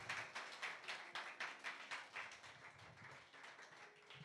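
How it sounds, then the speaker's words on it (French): A church congregation applauding together, steady rhythmic clapping that swells and then softens, moderately distant with no speech over it. "On peut acclamer la parole de Dieu."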